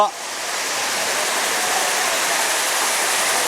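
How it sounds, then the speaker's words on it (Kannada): Hogenakkal waterfall on the Kaveri river gives a steady, dense roar of falling water that holds even and unbroken throughout, close and loud. "ಈ ಒಂದು ಸ್ಥಳದಲ್ಲಿ ಕಾವೇರಿ ನದಿ ನಯನ ಮನೋಹರವಾಗಿ ದುಮ್ಮಿಕ್ಕುವಂತಹ"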